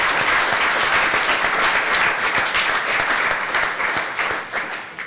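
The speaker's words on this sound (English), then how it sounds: "so please give them another huge round of applause." A conference room audience claps in a dense, sustained burst of applause that tapers off slightly toward the end, with no voices over it.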